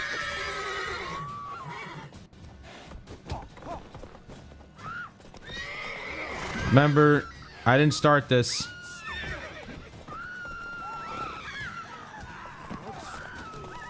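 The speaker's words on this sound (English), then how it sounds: "Oh my god, horses. They're loose." Horses in The Witcher 3: Wild Hunt whinny loudly in a couple of close bursts with hoof clip-clop, set among game combat sounds and ongoing talk.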